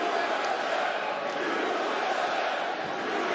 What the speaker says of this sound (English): Boston crowd getting behind the American Jeremy Stevens.